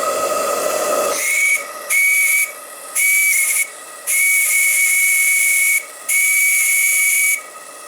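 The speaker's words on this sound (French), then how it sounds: "un sifflet JMC." A JMC steam whistle on a live steam vertical boiler blows in repeated loud, steady toots of about a second each with brief gaps, over a constant steam hiss.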